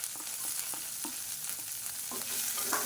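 Curry leaves and three finely chopped green chilies frying in a pan, a steady broadband sizzle with soft stirring scrapes throughout, close and continuous with no talking.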